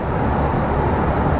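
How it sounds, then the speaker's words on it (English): Steady, loud road noise rumbles inside a truck as it drives over a bridge on the way to Weirton, West Virginia, a dense continuous roar with no voices. "when you go over a bridge, that road noise is just unbearable"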